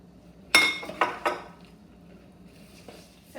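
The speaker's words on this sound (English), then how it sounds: "We'll add up the chocolate to our cookie mixture. And then just mix it." A spoon clinks sharply against a bowl while chocolate is mixed into cookie dough, with three distinct close clinks followed by softer scraping and stirring, with no talking.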